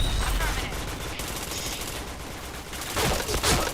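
Rapid automatic gunfire in a video game, dense overlapping bursts that swell louder toward the end, with a voice speaking underneath.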